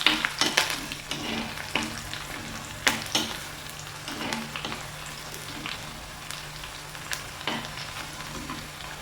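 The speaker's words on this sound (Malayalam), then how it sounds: "വെളുത്തുള്ളി ഒന്ന് മൂത്ത് വരണം കേട്ടോ" Garlic fries in hot oil in a pan, a soft continuous sizzle punctuated by frequent scraping stirs of a spoon against the pan, close and fairly quiet.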